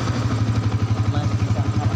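A Yamaha Vixion motorcycle engine running with no battery connected, idling with a fast, even low-pitched pulsing chug, close and steady, while a voice talks faintly over it.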